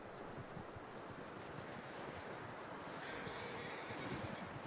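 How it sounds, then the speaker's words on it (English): Horse hooves clip-clop in Red Dead Redemption 2, a steady soft clatter under a constant wash of wind and outdoor ambience, with no voices. "That looks like a decent horse."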